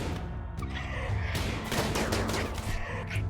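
Gunfire from a colony battle in RimWorld Biotech: a dense, continuous crackle of shots and impacts layered over a steady game soundtrack, loud throughout.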